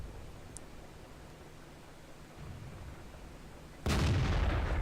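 A tank cannon fires in the World of Tanks video game, a single loud, sudden broadband blast near the end following a quiet stretch of low rumble.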